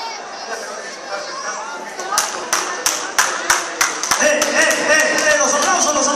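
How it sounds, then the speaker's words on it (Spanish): A lucha libre crowd at a wrestling match breaks into applause, building into sharp, rhythmic clapping bursts over a background of chatter and crowd noise. "Los aplausos, los aplausos."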